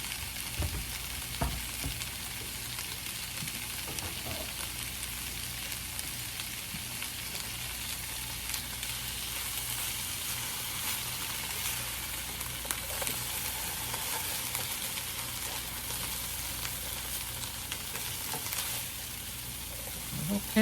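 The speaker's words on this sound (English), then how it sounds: "Dump in the potatoes and chilies. Cook for 10 minutes." Canned potatoes and chilies fry steadily in a pan, a continuous close hiss and crackle of sizzling with an occasional faint scrape, unbroken throughout.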